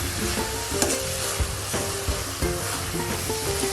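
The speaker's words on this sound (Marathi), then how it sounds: "असं चांगलं परतून घ्यायचं." Grated fresh coconut mixture for barfi is stirred and sautéed in a pan, giving a steady close sizzle with repeated scraping strokes and soft clicks of the spoon throughout.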